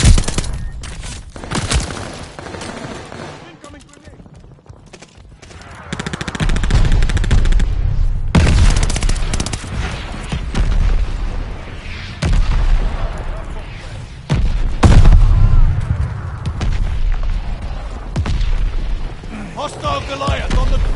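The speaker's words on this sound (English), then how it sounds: "They're sending mortar shells." Mortar shells and heavy gunfire in the Call of Duty Vanguard video game on PS5: repeated loud blasts, rattling automatic fire and deep booms in a dense, continuous battle mix, with voices talking throughout.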